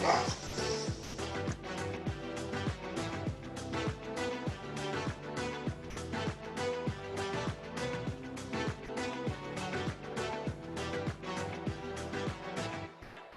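A big dog barks loudly and repeatedly in a steady, rapid series of barks that fills the whole stretch, close by and dominant, with no talk over it.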